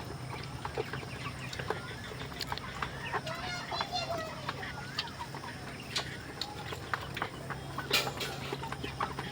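Chickens cluck on a poultry farm, a steady flock murmur with scattered sharper calls over a constant low hum. Some faint voices mix in.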